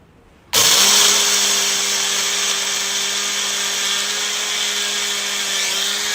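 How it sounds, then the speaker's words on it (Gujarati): An electric mixer grinder starts abruptly and runs with a loud, steady whining hum as it crushes a roasted spice mix for buttermilk masala into powder. "એને આપણે મિક્સર જારમાં લઈ લઈશું અને પછી એને ક્રશ કરી લેવાનું છે"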